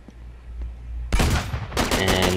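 Shotgun blasts in the multiplayer beta of the game Uncharted 3, a sharp broadband report about a second in, then another burst soon after, loud and close with continuing gunfire texture.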